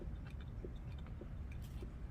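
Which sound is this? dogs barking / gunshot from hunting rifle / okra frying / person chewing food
person chewing food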